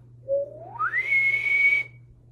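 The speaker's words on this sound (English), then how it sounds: "Start a whistle down low and go up high." A single person whistles one continuous note that starts low and glides smoothly upward to a high pitch, holding it briefly before stopping; close, clear and alone against faint background hum.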